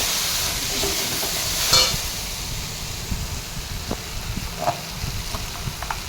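Curry stirred in a pot during a home lunch cook, a steady broadband sizzle with a few soft scraping knocks of the spoon, one louder clatter near the start, close and moderately loud with no talking.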